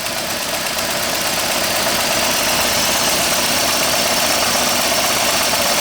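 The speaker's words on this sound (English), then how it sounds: "I'm sure you will be listening to this misfire" A loud car engine misfiring at idle, close up with a rough, uneven churn and faint knocking pulses, running continuously without a break.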